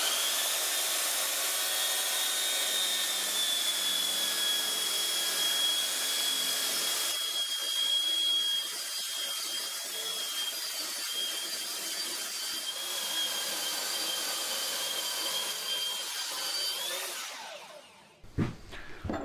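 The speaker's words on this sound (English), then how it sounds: "So I'm going to give that a sand down with the belt sander" Belt sander running across a workbench top: a loud, continuous whining drone with a steady high tone that eases down partway through and cuts off near the end, followed by a few handling knocks.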